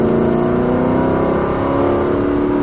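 Aston Martin V8 Vantage accelerating hard on the Croix-en-Ternois race circuit, a steady loud engine drone with rising pitch heard from inside the car, continuous with no break.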